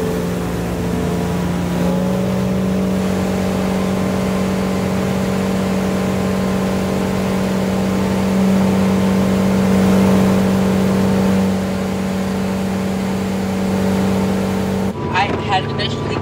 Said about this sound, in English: on a boat ride driven by her partner, CJ.